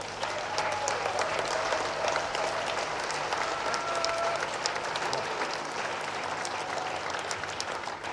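An audience at an international permaculture conference in India claps in a sustained, even wash of applause from a large crowd, fairly distant and uninterrupted.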